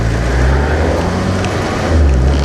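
Loud, dense turbocharged engine roar from a 2016 Honda Civic Type R revving toward redline, holding steady and swelling slightly near the end, deep rumbling throughout with no voices.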